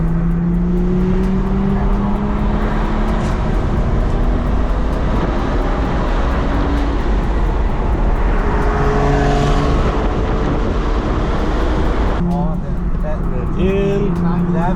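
Porsche 911 running on a race track behind a BMW, engine note rising and shifting through gears with steady tire and wind roar, loud and close from inside the car, with people talking over it.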